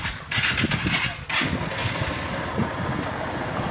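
Motorcycle engine firing up after a repair, cranking and catching before it settles into a steady, close, loud idle with a rough low rumble.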